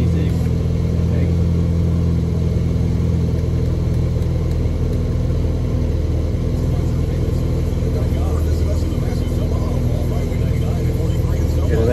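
Boosted 490 whp Honda S2000 engine warming up, a steady loud low rumble idling continuously close by, with people talking over it.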